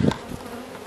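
A brief, close buzz of honeybees humming in a hive as frames are disturbed, a steady drone lasting under a second.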